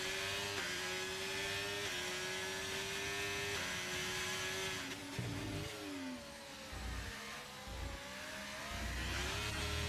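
Race car engines in a racing video game at Imola drone and whine continuously at close range, with pitch shifting through gear changes as several cars battle side by side, staying loud the whole time.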